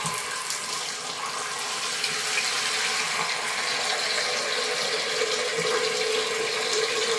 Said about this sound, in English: I'm just going to put some cool water in the pan